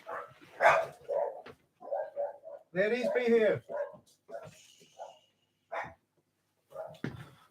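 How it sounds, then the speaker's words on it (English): Dogs bark indoors after a banging noise outside, several sharp barks and a drawn-out howling yelp mixed with a person speaking over them. "Somebody was banging something outside and it set the dogs off."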